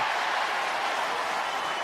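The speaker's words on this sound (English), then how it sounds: "Applause from the coach" Dense, steady applause from a rugby league crowd at a Saints v Wakefield match, a loud, continuous wash of many hands clapping with no breaks and no voices on top.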